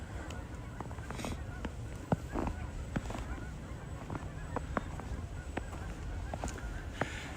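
Canada geese honk in a snowy nature area, scattered calls ringing out at moderate distance over a steady background hiss, several honks overlapping now and then.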